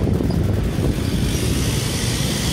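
Honda PCX 160 scooter carrying a passenger while riding, a steady close engine and road rumble with wind noise running continuously and evenly throughout, no voices over it.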